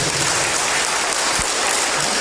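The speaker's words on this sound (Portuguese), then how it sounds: "Palmas para Jesus." A church congregation claps together during an evangelical service, a dense, steady wash of applause filling the room without a break.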